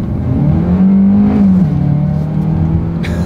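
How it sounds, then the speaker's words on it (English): A 2020 Hyundai Kona with a naturally aspirated engine accelerating hard, a steady loud engine drone rising slightly in pitch then holding, heard from inside with no talking. "Let's go ahead and do an acceleration test in the 2020 Kona"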